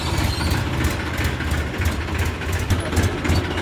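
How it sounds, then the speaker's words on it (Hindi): A Massey Ferguson 245 DI 50 hp tractor engine runs steadily with a low chugging throb, heard close as the tractor heads out to a field. "चल दिया ट्रैक्टर खेत को।"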